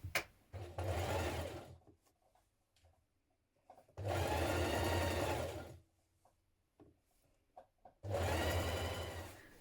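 Sewing machine stitching trim onto the sleeve of a vintage-style coat, three distinct runs of fast, steady motor whirring separated by short quiet pauses, close and clear.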